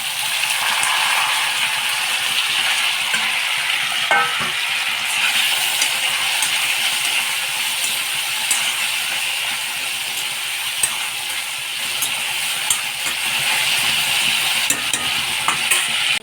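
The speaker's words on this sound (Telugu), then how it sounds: "ఇవి గోల్డెన్ కలర్ వచ్చేంత వరకు ఫ్రై చేసుకోవాలి" Potatoes and tomatoes frying in a pan, a continuous close sizzle with frequent spoon-against-pan scraping and rattling as they are stirred.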